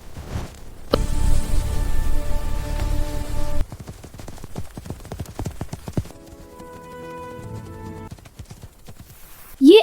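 Horse hooves clip-clop on sand in a quick, irregular patter, close and fairly loud, with some tonal music-like layers running underneath.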